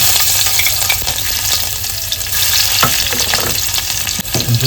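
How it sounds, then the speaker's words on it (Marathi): Garlic sizzles and fries in hot oil during tempering for a spicy homemade crab curry, a steady loud crackle with a few stirring clunks, and no voices. "तर फोडणी द्यायला घेतोय. लसूण टाकून घेतोय."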